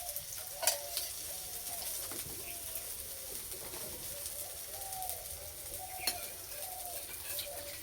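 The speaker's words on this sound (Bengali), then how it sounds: "এক মিনিট ভেজে নিয়েছি এবার তেল দিয়ে দেবো" Sweet carrot Mughlai paratha fries in oil on a griddle, giving a soft, continuous sizzle at moderate distance. Pigeons coo repeatedly over it, and occasional light clicks stand out.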